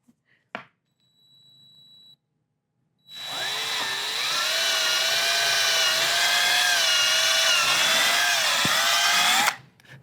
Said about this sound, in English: we're going to drill a small pilot hole in here before we put our wood screws in.